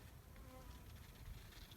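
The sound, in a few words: honey bees buzzing over sunflower field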